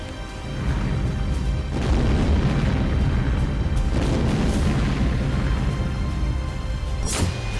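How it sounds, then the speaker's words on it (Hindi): Explosions and artillery fire near Avdiivka in the Russia-Ukraine war, a continuous rumbling barrage of deep booms and blasts, heavy and sustained, with a sharp crack near the end. "धमाके की आवाज आ रही थी।"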